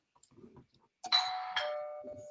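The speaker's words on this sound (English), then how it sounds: "Is that your doorbell?" A home doorbell gives two clear chimes that ring on and fade slowly, coming after a stretch of near silence with a few faint sounds.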